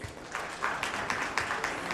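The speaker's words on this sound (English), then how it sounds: "I think this needs a round of applause." Audience applause at an education excellence awards ceremony, a steady wash of many hands clapping at moderate volume, continuing without pause for about two seconds.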